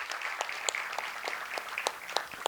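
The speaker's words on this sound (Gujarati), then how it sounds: "આજે પણ આપણા કાનમાં ગૂંજે છે, એવા શાયર જનાબ રાજેશ રેડ્ડીને તાળીઓથી વધાવશો." An audience claps to welcome a poet at a Gujarati and Urdu poetry gathering, giving sustained applause with a dense patter of many hands and a few sharper, louder claps throughout.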